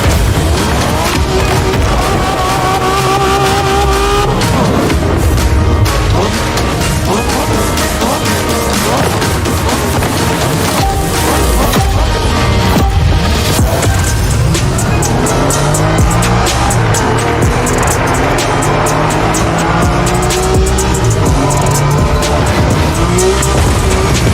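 A race car roars through Japanese street racing in the video game The Crew Motorfest, its loud engine revving continuously while tires squeal and skid throughout, dense and close with no speech.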